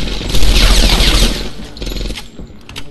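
Thompson submachine gun fire in the World War II shooter Medal of Honor Airborne, a loud, dense burst of rapid mechanical clatter and booms that trails off into scattered rattles.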